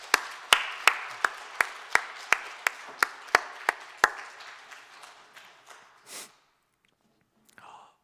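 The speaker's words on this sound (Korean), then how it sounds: "우리 다시 한번 박수를 보내도록 하겠습니다" A few people in a church congregation clap together at a Sunday afternoon mission service, a slow, evenly spaced series of distinct claps that gradually fades and stops, followed by quiet with a faint brief rustle.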